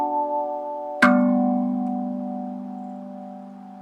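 RAV steel tongue drum struck on the wing of a tongue, one sharp metallic strike ringing out a bright harmonic that blooms into lower sustained tones and decays slowly alone.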